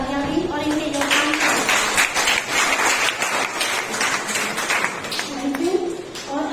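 Audience applause at a National Librarian's Day event held at a university, broad steady clapping from a crowd throughout, with a speaking voice over it at the start and end.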